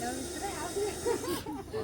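A Russell's viper found hiding under a pillow in a back room gives a breathy, continuous hiss. Excited voices talk over and around it.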